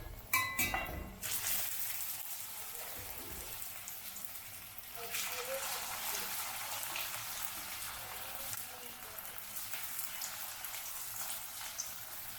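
Sago (sabu) chops frying in hot oil, a steady crackling sizzle like light rain, following a few sharp clatters at the start and holding fairly quiet and even throughout.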